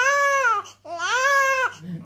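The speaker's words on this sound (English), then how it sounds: "It's only when they're washing the body that he's crying." A newborn baby wails during a first bath, giving two close, loud cries with a short breath between them.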